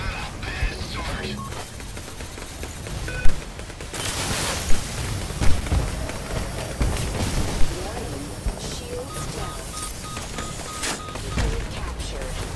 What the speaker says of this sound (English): First enemy ship destroyed.